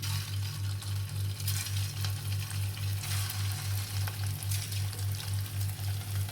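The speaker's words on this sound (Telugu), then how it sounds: "ఇవి కూడా సిమ్లోనే ఫ్రై చేసుకోవాలి ఇవి కూడా మంచి కలర్ వచ్చే వరకు ఫ్రై చేసుకుందాం" Chicken keema vadas deep-frying in oil over a low flame, a steady close sizzle and bubbling with a constant low hum pulsing evenly underneath, no voices.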